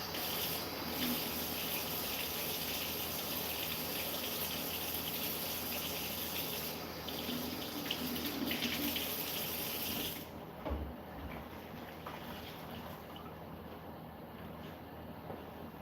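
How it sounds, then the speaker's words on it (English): Kitchen faucet water running steadily while hands are washed, a constant hiss that shifts slightly partway through, with no voices. "Let me wash my hands real quick."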